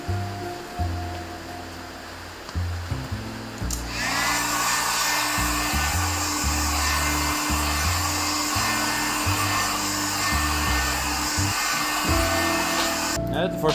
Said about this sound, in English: The heat gun also ensures that the paint dries and adheres nicely.